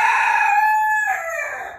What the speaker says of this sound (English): Mr. Stormy, are you going to be crowing again?